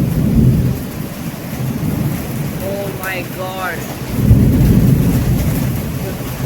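Heavy monsoon rain pours down in Surat while deep thunder rumbles roll in loud and close, swelling at the start and again near the end, and a voice briefly exclaims over the downpour.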